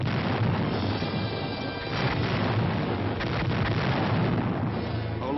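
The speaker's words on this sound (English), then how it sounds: "At H-5, the artillery opens up." Artillery opens fire during a late-1950s rifle platoon attack exercise, a continuous dense rumble of booms and crashes, loud and muffled, with no clear separate shots.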